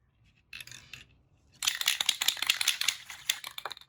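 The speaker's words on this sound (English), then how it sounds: "Shake my bottle really good here" A spray paint can is shaken hard in a garage, the mixing ball rattling in a fast, steady clicking run after a brief first burst, moderately close and with no talk.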